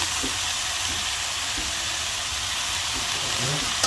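Red amaranth greens drop into a hot pan and fry with a steady, loud, broad sizzle and hiss that holds evenly throughout, with no voice.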